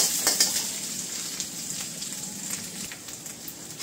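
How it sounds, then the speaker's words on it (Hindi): Onion and garlic sizzling steadily in a hot pan, a continuous close crackle and hiss for a vegetable chowmein, with no voices. "थोड़ा लहसुन को पका लिया है"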